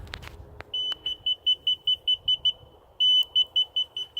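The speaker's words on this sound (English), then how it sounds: "the beeping means I'm above it." A high electronic beeper on a laser level receiver chirps in rapid, evenly spaced pulses, pauses briefly, then holds a longer tone before pulsing again, during a chicken coop build.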